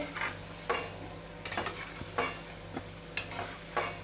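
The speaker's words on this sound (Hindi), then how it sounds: "पकोड़े को हम चारों ओर से क्रिस्प होने तक फ्राई करेंगे।" Coriander leaf pakoras deep frying in a kadhai and being turned, heard as a soft, steady bubbling sizzle cut by five or six brief scraping clinks from the utensil, all fairly faint and without talking.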